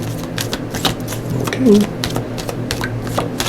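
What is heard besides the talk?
shuffling tarot cards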